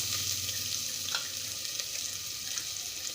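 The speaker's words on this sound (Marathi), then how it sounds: "कांदा आता थोडासा हलका गुलाबी रंग येऊपर्यंत परतून घ्यायचा आहे" Finely chopped onion, with black peppercorns, bay leaves and a piece of cinnamon, fries in a pan as the base for chicken soup, producing a brief, even, hissing sizzle at moderate loudness.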